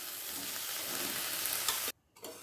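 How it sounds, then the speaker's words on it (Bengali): Boiled chickpeas being stirred into a spice masala frying in a pan, giving a loud, dense sizzle with scraping stirs that cuts out abruptly near the end before picking up again softly. "এই সময় দিয়ে দেব সেদ্ধ করে নেওয়া কাবলি ছোলা।"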